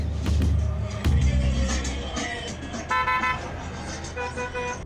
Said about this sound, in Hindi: पेरू में हर कोई हॉर्न बजाता है।